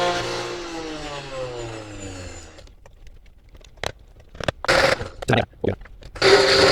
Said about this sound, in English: Blend it some more so it becomes fully homogenized.